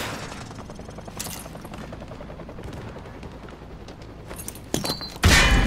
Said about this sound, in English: Toss the grenade down the range to take out several targets at once.